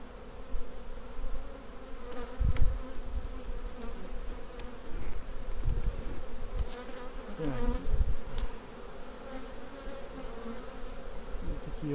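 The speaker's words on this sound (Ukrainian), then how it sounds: "Бджоли нервничають." Agitated honey bees swarm around their hives in a steady, dense buzz that fills the clip, with occasional bumps and knocks as individual insects pass close by.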